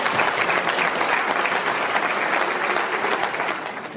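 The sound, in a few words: audience applauding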